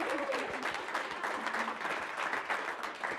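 Audience applause for a small linens business at a local pitch event, dense clapping throughout with brief voices and a faint tone mixed in.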